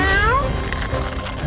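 A cat meows once, a short, clear, rising-then-falling cry at close range, followed by muffled room noise.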